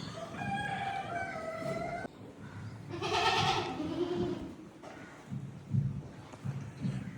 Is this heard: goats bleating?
yes